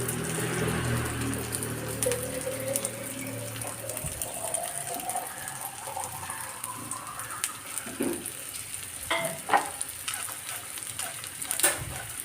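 Potato snacks sizzle as they fry in oil in a pan, a steady close crackle with bursts of popping. A rising tone runs underneath, and a few louder knocks sound toward the end.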